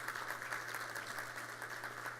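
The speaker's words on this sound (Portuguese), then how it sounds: "eu peço uma salva de palmas" Steady applause from a conference audience at the Telebrasil 2012 opening panel, a dense wash of clapping that continues evenly throughout with a faint low hum beneath.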